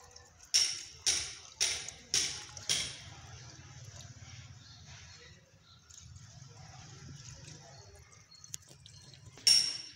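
Garlic, coriander and pea plants being watered, a series of five sharp splashes poured in quick rhythm, then a quieter running trickle and low hum, with one more splash at the end.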